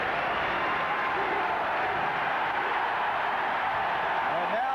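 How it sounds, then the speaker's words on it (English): Basketball arena crowd at the 1982 NCAA East Regional Final between North Carolina and Villanova, a sustained loud roar of cheering and shouting that fills the space steadily throughout, without let-up. "North Carolina, and listen to the crowd."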